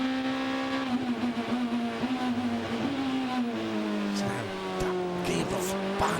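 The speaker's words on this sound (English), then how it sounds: "The sound of a V8 from BMW. Just have a quick listen there. This is it pulls up the hill." BMW V8 race car at Laguna Seca during an ALMS sports car race, engine pulling hard uphill with a steady loud drone and rising revs, shifting pitch near the end.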